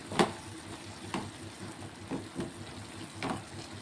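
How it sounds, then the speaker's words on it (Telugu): Tomatoes simmering in a pan for tomato ginger chutney, a soft steady bubbling sizzle with a few sharp stirring clinks spaced about a second apart, close and fairly quiet. "టమాటాలు అయితే ఉడుకుతున్నాయి చక్కగా."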